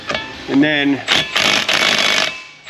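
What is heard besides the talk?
power tool removing driveshaft nuts on a 2016 Jeep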